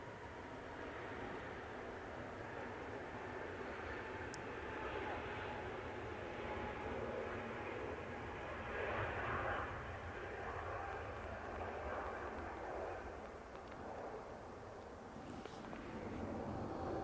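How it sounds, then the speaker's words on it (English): An EasyJet airliner takes off at Manchester Airport, a steady broad jet roar that swells gently and stays loud and continuous throughout, with faint voices now and then beneath it. "EasyJet on the roll."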